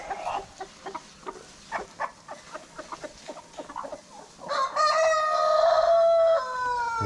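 On a village farm, hens cluck and peck in short bursts before a rooster lets out a long, loud crow close by.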